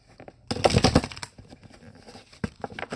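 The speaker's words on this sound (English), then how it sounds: "Sorry, you gotta bear with me on the shuffling." Tarot cards being shuffled by hand, heard as close, uneven bursts of riffling and slapping, with one louder flurry early on followed by quieter scattered taps.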